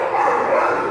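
A young Mastiff mix puppy at an animal shelter gives one sustained, close bark or yelp lasting about a second, loud and alone.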